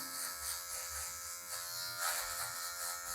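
An electric hair clipper buzzes steadily and close while cutting a mid fade, a continuous high whine with slight shifts in pitch as it moves through hair.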